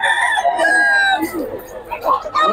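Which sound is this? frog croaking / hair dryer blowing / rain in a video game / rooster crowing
rooster crowing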